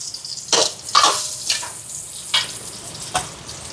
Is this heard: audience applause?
no